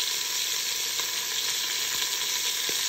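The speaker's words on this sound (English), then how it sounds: "So as you're browning this, you're going to brown each side for about 2 minutes and then switch." Pork roast browning on sauté in a hot Instant Pot, a steady close sizzle with occasional faint pops throughout.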